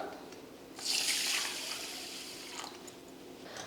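Water drains from freshly washed raw rice and moong dal as modakam is prepared, a splashy pouring rush that swells for about a second and then settles into a steady, softer trickle.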